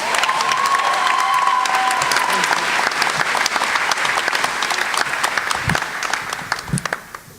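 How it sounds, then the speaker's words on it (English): A live show audience bursts into roaring applause with some cheering, loud and dense at first, then thinning into scattered claps as it fades out. "now I would like you to give a roaring applause for my good bud, Stephanie"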